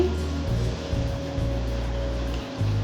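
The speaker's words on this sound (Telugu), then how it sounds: "ఆయిల్ వేడెక్కాక ఉల్లిపాయ ముక్కలు కోసి పెట్టుకున్న ఉల్లిపాయ ముక్కలు వేసి దోరగా వేయించుకోవాలి" Onion pieces frying in hot oil in a pan for a restaurant-style chicken liver fry, a steady close sizzle with a constant low hum underneath, no talking heard.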